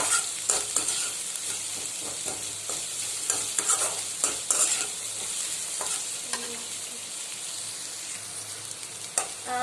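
Carrots and beans sauté in a pan for wheat egg noodles, with a close, steady sizzle, irregular scraping and tossing strokes, and no voices.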